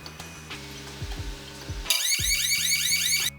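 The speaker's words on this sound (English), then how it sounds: "the iCheck will sound an alarm, flash a warning light" An iCheck barcode validator on a packaging line sounds an alarm: a loud, steady electronic alert tone cuts in over rhythmic machine clatter, then stops abruptly.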